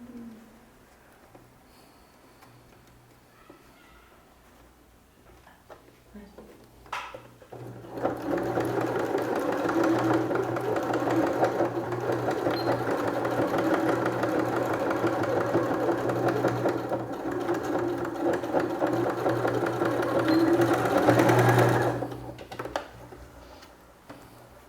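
A sewing machine runs steadily for about fourteen seconds, topstitching a bias binding seam on a zippered pouch. The even mechanical whir comes close and loud, with a brief surge just before it stops. Quiet handling sounds come before and after.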